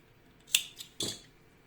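Scissors snip through leftover crochet yarn, three quick close cuts in a row, crisp and fairly quiet with no talking.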